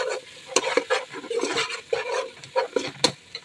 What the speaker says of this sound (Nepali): हल्दी पनि सँगै भुट्नु होला